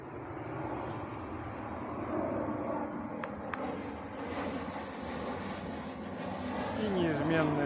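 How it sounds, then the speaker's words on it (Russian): A jet airplane passing overhead at a park in Adler, a steady broad roar that swells slowly and stays moderately loud, while people talk nearby. "И неизменные самолеты."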